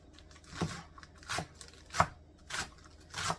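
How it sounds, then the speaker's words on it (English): Food is diced by knife on a cutting board, with five distinct chops spaced about every half second, close and fairly quiet. "We're going to get that all diced up."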